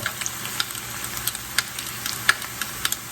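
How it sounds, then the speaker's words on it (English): Garlic sizzles with browned, cooked-down onions in a skillet, a steady close frying hiss broken by small crackles and pops, with no voices. "Now that our onions have cooked down really well and they're starting to brown, you want to go in with your garlic"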